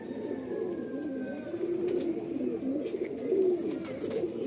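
Madrasi pigeons coo softly in a loft, a low continuous murmur of several birds that swells slightly in places, with faint clicks and knocks in the background.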